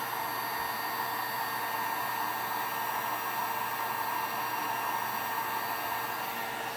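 A heat gun blows steadily as it presses HTV vinyl onto a stainless steel tumbler. It makes a constant hissing, whooshing blast at moderate level with no breaks, and no talking.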